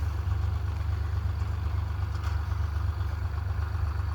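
A tractor engine runs steadily at a low, heavy throb while sowing bajra in a farm field, a constant drone with no talking.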